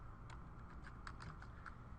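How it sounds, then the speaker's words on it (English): Quiet, rapid typing on a computer keyboard, a brief run of light key clicks at an uneven rhythm, close by with no talk. "I'm going to type it up here."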